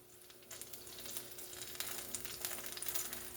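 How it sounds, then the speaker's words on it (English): Smash burgers and tortillas fry in a hot pan, giving a close, steady crackling sizzle that grows busier and louder over a few seconds. "now you just fry them up just a little bit to crisp up that tortilla"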